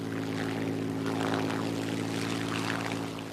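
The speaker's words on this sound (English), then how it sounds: "I think if Mitchell hadn't designed the Spitfire, we'd have been very pushed" A brand-new RAF Spitfire's propeller engine drones in a steady, even hum, moderately loud and continuous with no talk.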